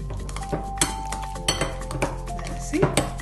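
A spoon stirs mashed ripe banana in a bowl, striking the sides in uneven clinks and scrapes at close range over a low background hum.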